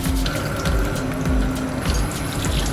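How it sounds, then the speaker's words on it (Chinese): Seafood being rinsed clean under a running kitchen tap, with a steady, continuous splash and gurgle of water that stays fairly loud and close throughout, with no talking. "首先将海鲜清洗干净"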